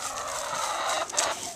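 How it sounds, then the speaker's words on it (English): Backyard chickens in a cold winter yard near their coop, clucking faintly amid a constant windy hiss, with a short louder squawk partway through and no talk. "Here's my chickens."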